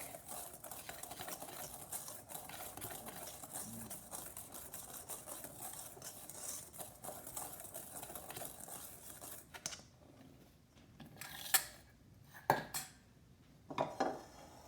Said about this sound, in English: I'm going to give this a quick whisk